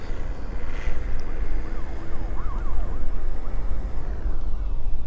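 A siren in a racing video game, a faint wavering wail partway through, sits under a loud, continuous engine and road rumble.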